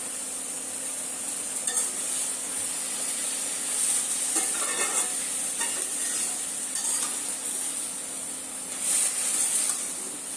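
Greens cook in a pan with salt, onion, garlic and green chilli, sizzling steadily up close, with louder bursts of hiss and scraping as they are stirred.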